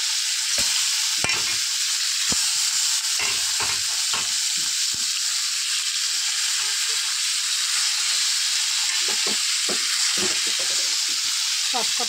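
Fish frying in hot oil in a kadai, a continuous loud sizzle and hiss with occasional scraping stir sounds, heard close up with no talking.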